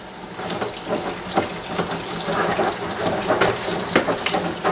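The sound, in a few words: hot tap water rinsing Cooper home brew kit container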